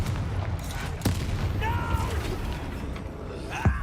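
A Confringo explosion spell in Hogwarts Legacy bursts with a couple of sharp booming impacts and a whooshing magical streak, set among ongoing combat effects and a game character's voice.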